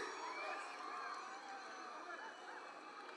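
An audience at a college function cheers and applauds to welcome a film team at a first look launch, a continuous lively crowd roar with voices mixed in, heard from within the hall.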